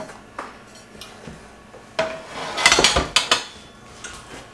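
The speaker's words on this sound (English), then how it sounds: "And then you can lay your pans into these and organize them really nice." Metal pans clatter and clank as they are set one by one into a pan organizer, with a cluster of sharp, close knocks and scrapes following a few lighter taps.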